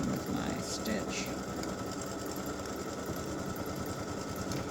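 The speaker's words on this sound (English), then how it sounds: "10 is going to stitch the placement line for her hat for applique" An embroidery machine stitches an applique placement line on a t-shirt, a continuous rapid mechanical chatter heard close up, with a person talking over it.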